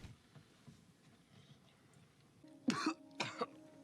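Two rough, close coughs come near the end of otherwise quiet, low background noise, the second shorter and split in two bursts.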